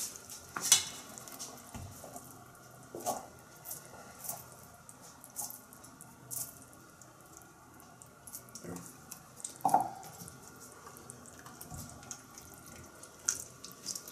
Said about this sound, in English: So I'll just add the veggies here. Maybe a bit of stir.